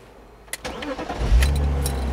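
A BMW Z3 3.0i engine is started with the key: a short cranking burst, then the engine catches and settles into a loud, steady low idle rumble.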